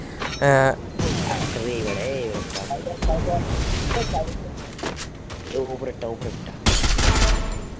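Gunfire and grenade blasts from a shooting video game crack out in sharp bursts and short volleys, with bright loud bangs at the start and end, while a voice talks over much of the action.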